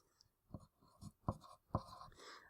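Pencil scratching math working on paper, a few separate scribbling strokes at close range, quiet and dry with short pauses between them, no talking.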